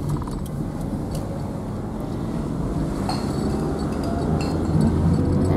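A car drives along the road, a steady low rumble of engine and tire noise with a wind-like hiss from inside the moving vehicle, building slightly toward the end.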